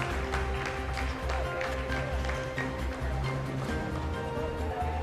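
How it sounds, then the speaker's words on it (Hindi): Scientists in a mission control room applaud after a lunar descent phase of the Chandrayaan-3 landing, a dense patter of many hands clapping at moderate distance, continuing steadily throughout. "जी हाँ, आप इस तालियों के गड़गड़ाहट को सुन सकते हैं"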